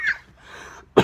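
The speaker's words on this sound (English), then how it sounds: "I didn't want to cough." A single loud cough bursts out near the end, preceded by a brief throat sound at the start and quiet room tone between, with no talking.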